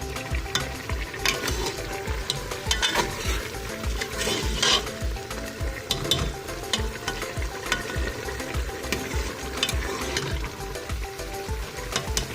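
Mutton pieces sautéing in ghee inside a cooker, a steady close sizzle and frying crackle with repeated stirring scrapes and clinks of the spoon against the pot, no talking.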